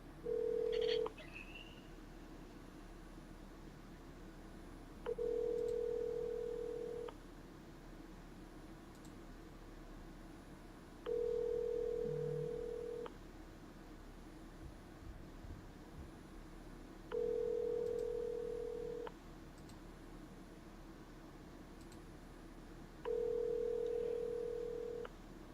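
A telephone call rings out in a steady pattern before voicemail, five evenly spaced ringback tones about six seconds apart, clear but quiet over faint line hiss.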